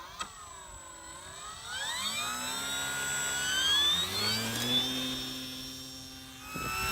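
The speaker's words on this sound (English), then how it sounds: "And it takes off within a metre with the flaps." A Hobbyking Tundra RC plane lifts off with its flaps down, its electric motor whining and sweeping upward in pitch as it speeds up, a steady close buzz without voices.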